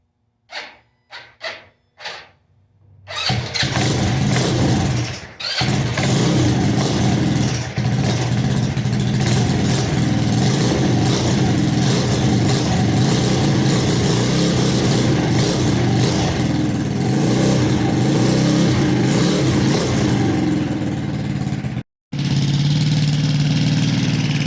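A custom Maddog scooter engine, running without its air filter, fires after a few short sputtering attempts. It then settles into a loud, continuous running drone with slight revs, close up, and cuts out briefly near the end before catching again.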